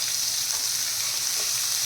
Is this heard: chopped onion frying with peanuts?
yes